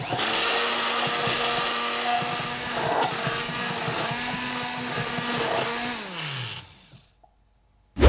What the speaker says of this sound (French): moi je le fais directement dans ma casserole avec mon mixeur plongeant